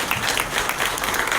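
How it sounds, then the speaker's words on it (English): A conference audience gives a steady, dense round of applause for a panel of speakers, loud and continuous from start to finish with only faint voices beneath. "please a round of applause again for our speakers and panel"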